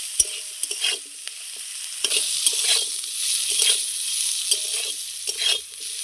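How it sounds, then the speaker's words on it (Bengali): Bitter gourd pieces frying in oil with turmeric and salt, with steady close sizzling and a few stirring scrapes of a spatula against the pan, no talking. "হলুদ আর লবণ দিয়ে আমি খুব সুন্দর করে উচ্ছেগুলো ভেজে নেব লাল লাল করে।"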